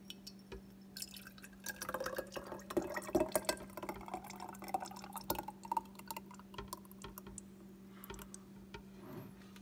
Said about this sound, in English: And pour it into the jar